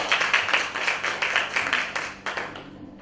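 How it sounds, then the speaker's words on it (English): An audience at a talk on failure and empathetic leadership claps steadily for about three seconds, the sound fading toward the end, with no speech over it. "So give him a round of applause."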